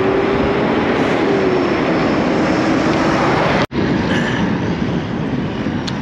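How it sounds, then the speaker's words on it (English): Strong wind roars steadily into the microphone during a bike ride toward Kingwood, a loud continuous buffeting rush broken by one brief dropout. "Strong wind right at the moment anyway."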